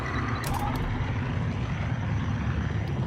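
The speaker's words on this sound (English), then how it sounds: "Spooling up the hyperdrive." A spaceship's hyperdrive spools up in the Star Wars Outlaws video game, a loud, steady mechanical rumble and hum with faint creaking and a few brief hissing bursts.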